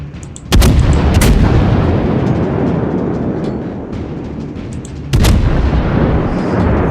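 Two heavy booming naval cannon shots from the cruiser New Orleans in World of Warships ring out a few seconds apart over a constant loud rumbling background, each blast sharp and then decaying.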